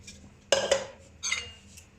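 A spoon stirring a clove and cinnamon infusion into aşure in a metal pot, two sharp scraping clinks followed by a softer scrape, close and distinct in a quiet kitchen.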